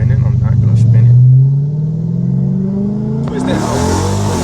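A straight-piped 2022 widebody Dodge Charger growling loudly up close, the engine note climbing steadily as it accelerates, then a burst of exhaust roar near the end.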